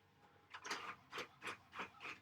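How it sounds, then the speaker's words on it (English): Home printer running in bursts: four or five evenly spaced mechanical whirring pulses of the print head, close by and moderately quiet, with no talking over them. "my printer suddenly is going off here"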